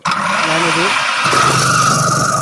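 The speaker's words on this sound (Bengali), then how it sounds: "এই ধরনের একটা ফুড প্রসেসর নিয়ে, এটা কিন্তু একটা দেখেন, এই গাজরটা দেখেন আমি দিলাম" A Miyako electric food processor chopping carrot, its motor starting abruptly and then whirring loud and steady at close range with a grinding buzz that shifts slightly as the blades bite.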